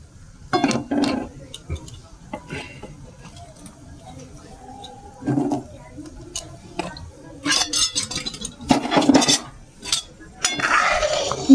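Carrot and vermicelli halwa with whole soaked dates being stirred in a pot, giving scattered clinks and scrapes of a utensil against metal in uneven bursts, with a voice talking over parts of it.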